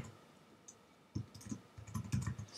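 Soft clicks of typing on a computer keyboard, a brief pause and then a quick cluster of keystrokes, quiet and close with no talk.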